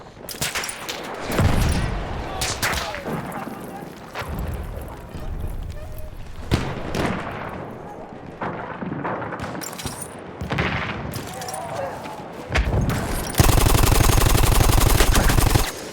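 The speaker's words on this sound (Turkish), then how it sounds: "Bir şey bize atış ediyor ya" Video game gunfire in Battlefield 1, with machine-gun bursts and scattered single shots crackling through a busy battle, some close and sharp, others farther off, ending in a loud sustained roar of fire.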